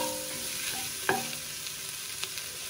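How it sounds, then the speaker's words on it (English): Onions and garlic fry in a pot, giving a steady soft sizzle with a stirring scrape and a brief clink near the middle, close and fairly quiet with no talking. "So I've added the onions, a little bit of garlic."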